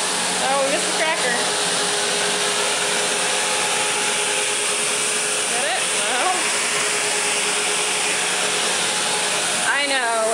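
A Sebo vacuum cleaner runs indoors with a loud, steady whooshing roar that never lets up, while people talk briefly over the motor noise.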